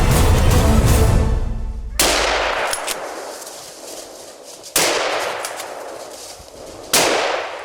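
A hunting rifle fires at a warthog, with three sharp loud cracks spaced a couple of seconds apart, each ringing out into a long fading echo after an initial heavy rumble.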